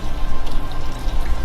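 Steady rain falling outside over a summer garden, a dense continuous patter of drops hitting surfaces close by, with no voices.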